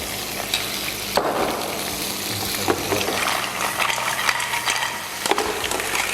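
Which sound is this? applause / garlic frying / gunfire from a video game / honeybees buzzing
garlic frying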